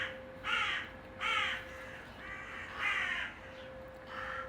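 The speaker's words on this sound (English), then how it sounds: "What song is this, bird?" A crow-like bird caws outdoors in a regular series of about five raspy calls spaced roughly a second apart. A faint steady tone runs underneath, and no one speaks.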